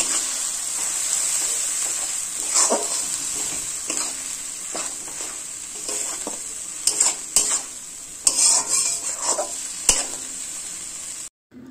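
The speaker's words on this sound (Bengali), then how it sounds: "দিয়ে একটু লাল লাল করে পেঁয়াজ বাটাটা ভেজে নেব।" Onion paste fries in a pan with a steady bright sizzle, punctuated by scattered stirring scrapes and clinks, close and alone with no talk.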